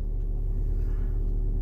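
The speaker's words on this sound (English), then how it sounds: "Actually, you can actually hear the engine right now" A BMW plug-in hybrid's engine idles steadily during an oil level measurement, a low continuous rumble with no speech over it.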